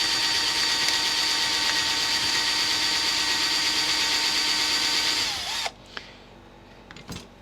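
A power drill fitted with a new bit drills steadily in a leather workshop, a continuous loud whine that winds down and stops near the end, followed by a few small clicks and knocks.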